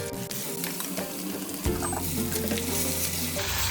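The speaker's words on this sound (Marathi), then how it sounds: "ते पण आपण मस्तपैकी तेलामध्ये भाजून घेऊया" Blended onion-tomato paste for a paneer gravy fries in hot oil, a steady loud sizzle that swells sharply partway through as the paste hits the pan, with stirring scrapes and no talking.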